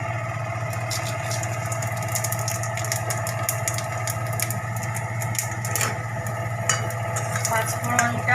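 Panch phoron spices fry in hot oil for a fish-head and bottle gourd dish, giving a continuous close sizzle with light crackles and occasional stirring over a low steady hum.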